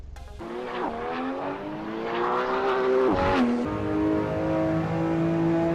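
A racing car in Assetto Corsa drives on a half-wet road, its engine climbing through gears with rising pitch, a quick downshift and blip midway, then a sustained, loud, close drone with no talk.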